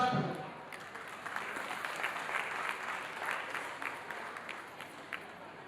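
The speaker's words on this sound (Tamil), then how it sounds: "அப்ளாஸ் பண்ணுங்க" An audience at a school annual day bursts into sustained applause, many hands clapping steadily for several seconds before tapering slightly, with a faint voice underneath at the start.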